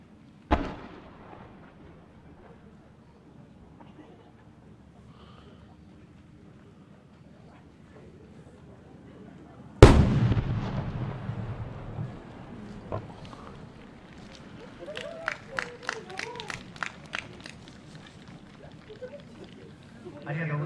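Message fireworks launched at the Sanriku fireworks festival: a sharp launch thump, then a loud burst followed by crackling and popping, with crowd sounds and a voice briefly heard.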